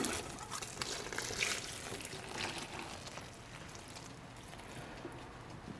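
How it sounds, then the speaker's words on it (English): Water poured steadily onto yarn for dyeing, making a soft, continuous gushing trickle that eases slightly over several seconds. "I'm gonna go ahead, I'm gonna put some water in this."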